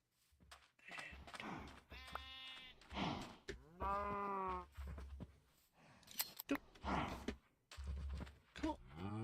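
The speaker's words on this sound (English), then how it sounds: "Okay, we can also shear our sheeps." Sheep being sheared in the Minecraft video game, with synthetic bleats and snipping effects that keep recurring over a steady stream of close background sound.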